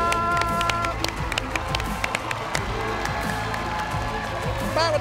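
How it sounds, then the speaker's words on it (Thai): A television game show studio audience claps and cheers, a dense stream of applause with crowd noise and music running beneath it throughout. "ขอเสียงปรบมือ"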